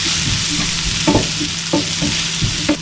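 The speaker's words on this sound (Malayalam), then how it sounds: "ഈ പൊടികളുടെ പച്ചമണം മാറുന്ന വരെ നമുക്കൊന്ന് വഴറ്റി കൊടുക്കണം." Turmeric, chilli, coriander and garam masala powders sautéed in a pan give a steady, close sizzle, with a few spatula scrapes as they are stirred, and no voices.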